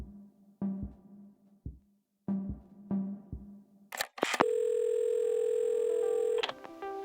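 A phone in the puzzle game Assemble with Care: a few soft dull handling taps and clicks, then a bright sustained electronic tone holding steady for about two seconds before cutting off.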